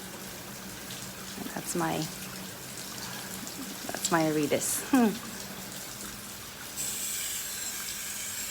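Hanging Vanda orchids get a thorough soak from a water spray, a steady broadband hiss running throughout beneath a person talking nearby.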